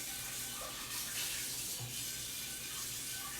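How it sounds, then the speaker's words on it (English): A kitchen strainer is rinsed under a running tap during soup preparation, producing a steady close splashing hiss of water. "I'm just going to rinse it out"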